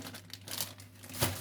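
Plastic bags are crinkled and handled while apricots are packed for storage, giving soft, close rustling with a sharper crackle near the end, quiet and without voices.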